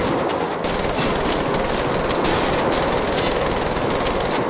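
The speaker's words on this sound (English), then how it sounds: "Suppressive fire, huh?" Sustained machine gun suppressive fire in the video game Wolfenstein: The Old Blood, a loud, dense, unbroken stream of rapid gunshots filling the whole stretch with no pauses.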